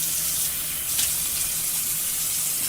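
Water runs steadily as cleaner is rinsed off an old sink, a continuous close gush and splash with a brief brighter spray about a second in.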